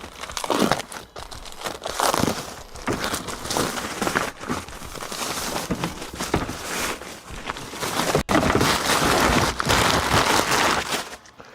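Insulation being cut and handled with a knife during an installation job, a loud, close, continuous run of crinkling, tearing and crunching sounds with no speech.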